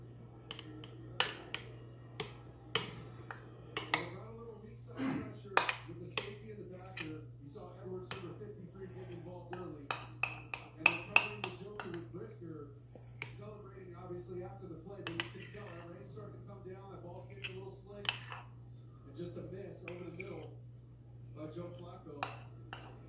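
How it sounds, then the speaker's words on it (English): A spoon scrapes and clinks against a bowl while peanut butter is mixed with eggs for cookie dough, giving a run of sharp, close taps and scrapes over a steady low hum, with talk in the background. "Scrape the peanut butter off the spoon."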